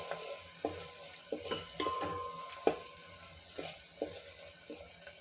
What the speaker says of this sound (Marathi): आता हे सगळं आपल्याला तेलामध्ये मिक्स होईल असं फिरवून घ्यायचं आहे आणि तेलामध्ये एक मिनटं याला शिजू देऊया